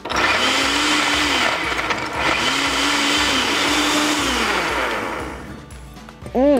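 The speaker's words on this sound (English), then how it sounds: "Add it to the blender and blitz until smooth." Countertop blender blitzing strawberries, citrus and white rum into a daiquiri, a loud steady whir that dips in pitch under load and rises again, running for about six seconds before cutting out.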